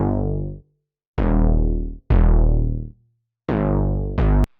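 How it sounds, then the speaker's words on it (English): Gnarly, squelchy 808 bass for pop music, run through distortion and filtering with an envelope adding cutoff movement: four loud, booming sustained hits separated by short gaps, each tone decaying and buzzing, heard alone. "anything that's going to have kind of like almost a squelchy 808"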